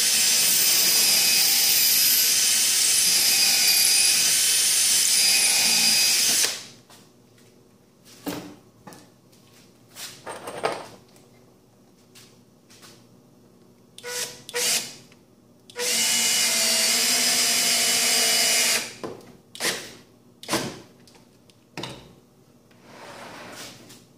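A power drill whirs loudly in two long bursts, separated by short clicks, knocks and handling noises.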